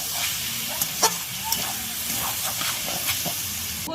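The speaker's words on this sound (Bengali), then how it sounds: "এবার এটাকে আমি ভালো করে ভেজে নেব" Potato pieces with salt and turmeric hiss and sizzle steadily in hot oil in a home kitchen pan, a continuous close spitting wash with a few sharper pops, no talking.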